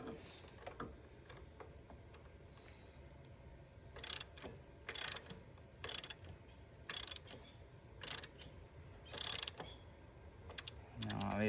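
A 3/4 wrench tightens a bolt on a Ford 8N tractor in quiet, evenly spaced bursts of ratcheting clicks, about one each second, close and moderately loud over faint background noise.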